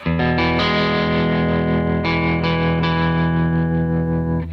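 A single electric guitar chord is struck and left to ring, thick with distortion and effects, holding loud and steady before a slight fade.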